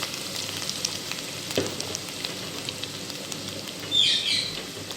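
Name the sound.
onions sizzling as they fry in hot oil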